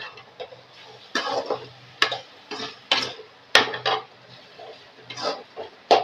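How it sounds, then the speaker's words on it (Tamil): A spatula stirring beans and carrot stir-fry in a pan, irregular scraping strokes and light clinks against the metal, close up with quiet gaps between bursts and no talk. "இந்த பீன்ஸ் கேரட்டை நல்லா கிண்டி விட்டுக்கலாம்"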